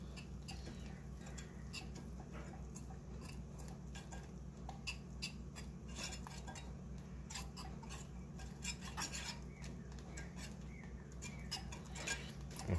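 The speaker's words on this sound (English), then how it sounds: "stir that to get it to melt" Cheese being stirred into a warm sauce off the heat for pretzel bites, a soft steady scraping and patter of a utensil against the pot under a low continuous hum, close and fairly quiet, with no talk.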